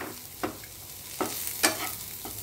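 Corn frying in a pan over a low sizzle, broken by several distinct scraping clacks of a spatula stirring at irregular intervals, with no voices.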